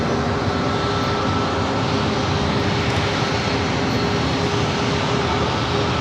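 A Southwest Airlines jet taking off from runway 27 at San Diego airport gives a broad, steady engine roar that holds loud and even throughout, with no voices.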